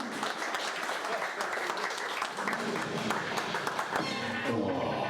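Wedding guests applauding, a busy stretch of many hands clapping at close to moderate distance, steady and lively throughout with voices mixed in underneath.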